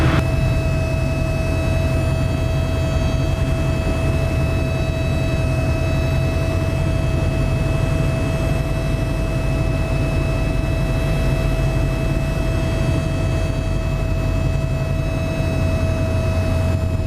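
Steady piston engine drone inside a Piper Super Cub light aircraft flying the downwind leg before wheel-landing practice, with a constant low rumble and a sustained whine running evenly and loud throughout, no voices.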